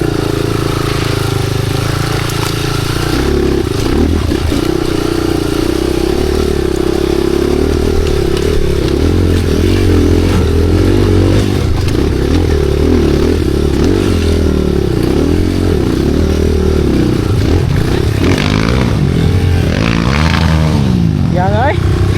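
A motorcycle engine drones and revs steadily while riding over a rough trail, with clattering and scraping mixed in; a voice talks over it.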